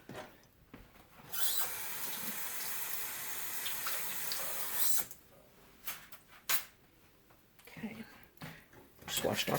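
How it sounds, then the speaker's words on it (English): Tap water runs steadily for a few seconds as a spoon is rinsed in a kitchen while making slow cooker chicken and rice, then stops, followed by light clatter and brief talk. "Just washed off my spoon."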